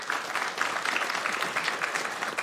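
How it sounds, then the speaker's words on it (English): An audience applauds in a Sacramento city council chamber as Lung Association representatives come forward, a dense, even patter of many hands clapping for a couple of seconds with no talk over it. "let's give them all a big round of applause here"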